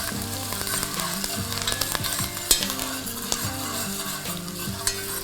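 Garlic fries in hot oil as a tempering for Kerala-style fish moilee, giving a steady close sizzle with occasional utensil clinks from stirring and no talk.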